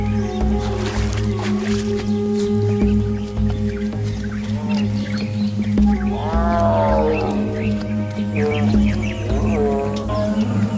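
A tigress's deep, moaning call rises and falls over a low rumbling background drone, with a few shorter groaning calls in between.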